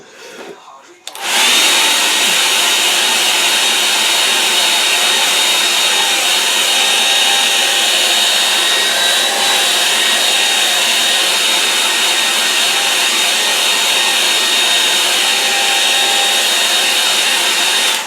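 A hair dryer blasts onto a watercolour painting of trees, switching on after a second and then holding a loud, steady whirring roar for the rest of the clip, with no voices.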